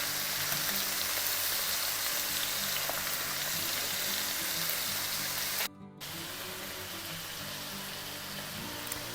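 Thick Polish beef rolls (zrazy) searing in a hot pan on the stove, giving a loud, constant sizzle with a brief dropout partway through; no talking.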